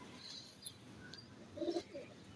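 Pigeons, including a breed whose feathers are known for vibrating, give soft low coos close by, with a brief murmuring call near the end in a quiet setting.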